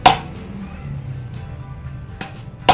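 A hammer drives a chisel into galvanized iron sheet for a made-to-order powder coating oven, producing two sharp metallic strikes, one at the start and one at the end, with quieter scraping and faint ringing between them.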